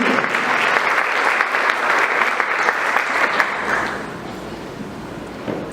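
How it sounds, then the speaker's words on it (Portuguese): Congregation clapping at a Sunday church service, a dense steady wash of many hands that holds loud for about four seconds, then thins and fades toward the end. "Você pode aplaudir Jesus por isso?"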